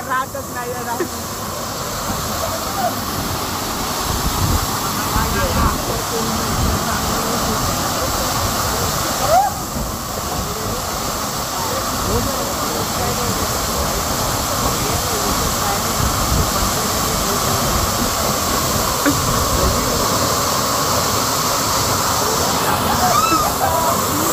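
The Diksal waterfall near Bhivpuri, Maharashtra, roars in a steady, loud, broad rush close by, and voices are heard talking under the torrent.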